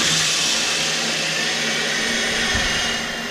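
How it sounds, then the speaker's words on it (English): Electric hub motors spin two wheel rims together off a single throttle through two speed controllers, giving a steady, loud whine with a slight dip in level near the end. "Hit the one throttle now, and both rims should spin."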